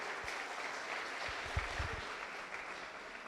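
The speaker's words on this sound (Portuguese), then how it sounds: "Deus, dê uma salva de palmas para esse rei." A church congregation claps softly and steadily, a quiet, distant patter of hands with a few sharper claps standing out, and no talking over it.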